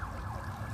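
An emergency siren wails on a Hollywood street, a steady rising and falling tone heard faintly at a distance over a constant low traffic rumble.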